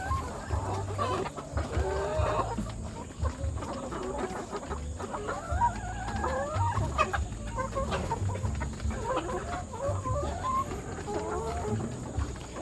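Laying hens in a poultry farm on a hot day, a dense chorus of clucking and crowing close by, continuous throughout with layered calls over a low hum.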